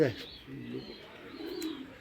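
Top-level racing pigeon pairs bred for middle-distance races coo softly in a loft, low murmuring calls rising and falling over faint background noise, with a brief higher chirp near the start.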